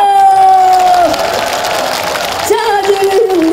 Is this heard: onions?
no